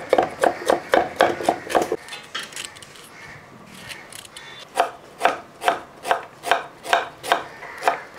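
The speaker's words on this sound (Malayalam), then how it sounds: "വലുപ്പം അനുസരിച്ച് ഇതേപോലെ ഇതേപോലെ കനം കുറച്ച് ചെറുതായിട്ട് പൊടിയായിട്ട് അരിഞ്ഞെടുക്കുക." Ginger is finely chopped with a knife on a board: two bursts of quick, rhythmic close knocks, about ten strokes each, separated by a short pause with softer handling sounds.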